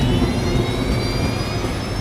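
Japan Airlines Flight 123 jet engines roaring steadily as power is added, a loud continuous low rumble with a high whine running through it, with no one talking over it.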